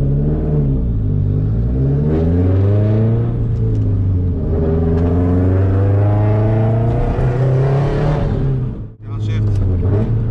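A 2004 Subaru WRX STI engine revs loudly on a downshift, its pitch sweeping up and down in a rough, rumbling drone from inside the car, with a brief dip near the end.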